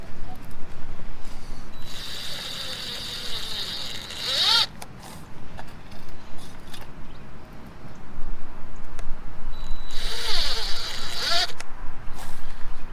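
Hand screwdriver turning screws into scrap-wood boards for a raised garden bed, two bursts of quick ratcheting, zipper-like clicking close by, separated by quieter handling noise.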